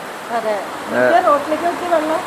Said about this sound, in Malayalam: ഇപ്പൊ നോക്കുന്നത് ഭയങ്കര മഴ.